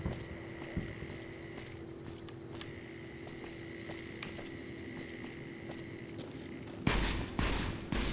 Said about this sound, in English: It sounded like somebody was shooting a rocket launcher or something.